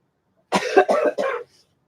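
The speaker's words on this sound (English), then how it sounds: "Oh, I'm so sick of coughing." A short run of three or four harsh, close coughs in quick succession, followed by silence.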